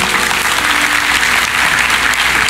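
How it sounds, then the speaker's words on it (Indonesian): A church congregation breaks into loud, sustained applause, a dense steady wash of clapping filling the room with no voices standing out. "kasih tepuk tangan untuk Tuhan, haleluya"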